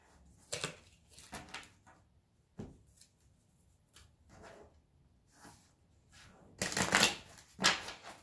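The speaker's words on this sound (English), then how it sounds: "2 more shuffles." Tarot cards being shuffled in several quick riffling bursts with pauses between, close up, the last bursts louder and longer.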